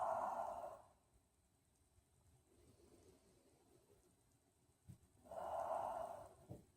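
Slow, deep breathing during a calming bedtime yoga session: a soft, breathy inhale, a long quiet pause, then another gentle breath, faint and close.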